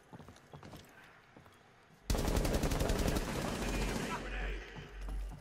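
Rainbow Six Siege gunfire, scattered shots at first, then a loud, sustained burst of rapid automatic fire for several seconds, close and dense, with a low rumble as it trails off.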